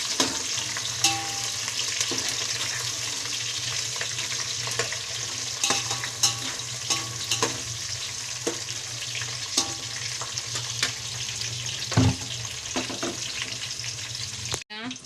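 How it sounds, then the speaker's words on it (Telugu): Onions fry with bay leaves and biryani spices for a jackfruit biryani, a steady close sizzle broken by scraping stir strokes and light clinks from the pan, with occasional faint talk. "ఉల్లిపాయలు వేసుకుంటున్నాను, అలాగే బిర్యానీ ఆకులు, బిర్యానీ సామాను ఇవి బాగా కలుపుకుంటున్నాను"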